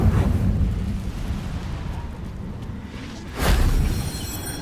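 The Incendio fire spell is cast in Hogwarts Legacy. A deep, rumbling fiery blast swells in, eases, then flares again with a second whooshing burst, loud and close with no talking.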